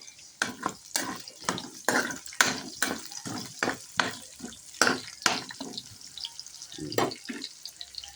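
Garlic and onion sautéing together in a pan for chicken mechado: a soft sizzle under repeated sharp scrapes and knocks of a stirring utensil, close by.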